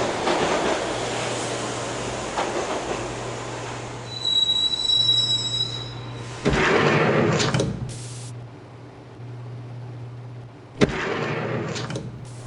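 A train riding into a station in the video game Max Payne, with a steady low rumble, sustained high wheel squeal, and loud clanking rushes of passing cars, one sharp clank near the end.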